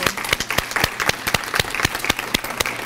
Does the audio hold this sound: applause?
yes